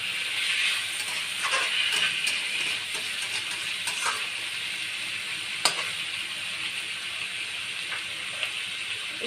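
Chicken curry fries under a lid over medium heat, giving a steady soft sizzle with faint hissing and occasional small pops and ticks, fairly quiet and continuous, with no one talking.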